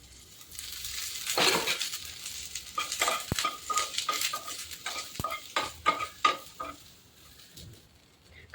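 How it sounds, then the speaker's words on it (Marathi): A large onion roasts in oil in a pan while being stirred, a soft frying sizzle broken by repeated spoon scrapes and clinks against the metal, close and with no voices. "1 मोठा कांदा, तो छान भाजून घेऊया. थोडंसं वरतून तेल घालूया."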